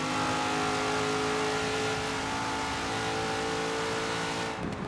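A Camaro ZL1 1LE accelerates hard, its engine roaring loud and steady at close range for several seconds before easing off at the very end.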